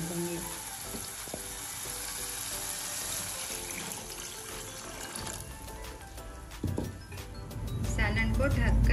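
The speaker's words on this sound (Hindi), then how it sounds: "अब इसमें पानी डाल देंगे।" Water is poured into sizzling masala frying in a pan for dal soybean kofta curry. A steady hiss and crackle is followed by a louder rushing pour and bubbling near the end, with a voice speaking over part of it.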